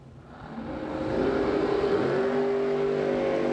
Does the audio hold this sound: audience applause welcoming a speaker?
no